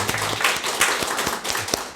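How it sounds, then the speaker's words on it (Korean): A church congregation at a year-end Sunday service claps for a new member who finished a four-week newcomers' class, a brief burst of many hands forming busy, moderately loud applause. "수고했노라고 박수 한번 보내드리겠습니다."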